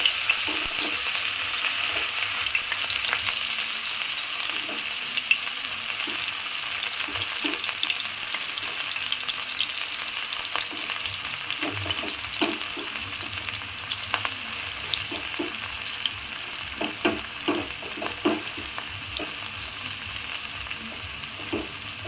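Chopped onion and dried red chillies frying in hot oil for a home-style tadka, a continuous close sizzle with occasional stirring scrapes and pops throughout.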